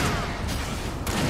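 Shotgun fire in the video game Alan Wake, two loud blasts in quick succession over dense, booming game noise.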